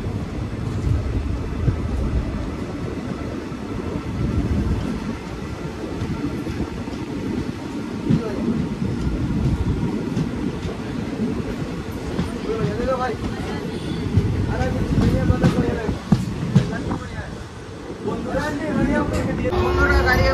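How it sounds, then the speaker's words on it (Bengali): A Kaviguru Express sleeper-class train (13015/13016, Jamalpur–Howrah) runs on after pulling out of Dumka station, a steady, loud rolling rumble with rattling carriages and a faint murmur of voices throughout. "তো বন্ধুরা, আমাদের ট্রেন এখন বেরিয়ে গেল দুমকা স্টেশন থেকে।"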